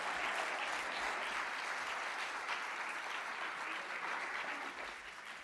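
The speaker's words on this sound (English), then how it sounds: "So I think they deserve another really loud round of applause." Loud, sustained applause from a large crowd at a conference opening ceremony, dense and steady throughout before easing slightly at the very end.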